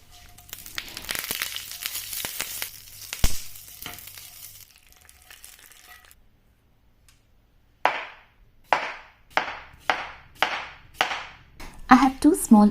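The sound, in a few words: tadka: mustard seeds, chana dal, urad dal sizzling in oil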